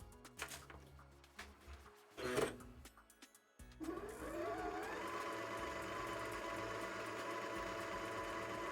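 A sewing machine winds a bobbin, starting after a few clattering knocks and handling sounds, then running as a steady, moderately close mechanical whir that holds for several seconds.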